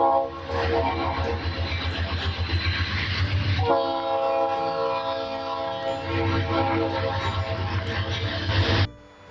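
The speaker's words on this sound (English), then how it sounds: "And yes, the train whistles too." A passing train in a mountain setting blows a loud, sustained whistle in several long blasts, with rumbling wheels and clattering cars underneath, ending abruptly.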